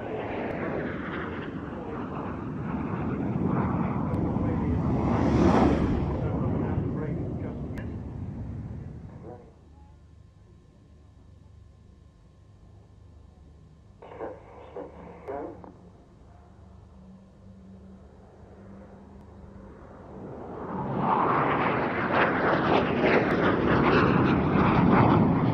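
Sabre jet aircraft at a classic jets display, a broad roaring jet passing overhead, swelling and fading, a quieter gap with brief bursts, then another loud roaring pass building near the end.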